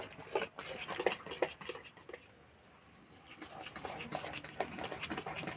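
Semolina and milk cake batter being stirred in a pan, with repeated scraping and clinking of a metal spoon against the cookware, brief pauses between bursts, close and moderately loud.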